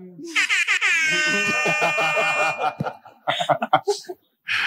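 A loud, sustained air horn blast of about two seconds, followed by laughter and voices.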